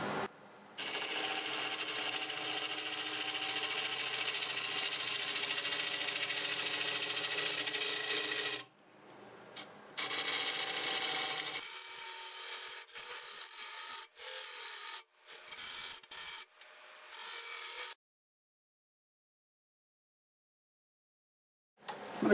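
A half-inch bowl gouge cuts a cherry burl spinning on a lathe at about 830 RPM, giving a steady, close, harsh rasping scrape that breaks off partway. Shorter scraping bursts and small knocks follow, then near silence.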